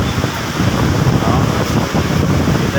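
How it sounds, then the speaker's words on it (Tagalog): Heavy typhoon rain and gusting wind outdoors, a dense, roaring wash buffeting the microphone, loud and close, with a person talking intermittently over it. "Ang lakas ng ulan."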